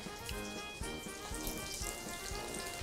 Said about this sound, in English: now let those fry up